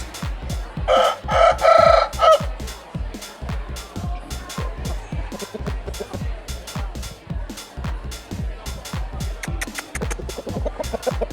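A Fergana Valley breed rooster crows loudly and close by, followed by clucking fowl and a steady run of sharp, rhythmic knocking or tapping sounds throughout.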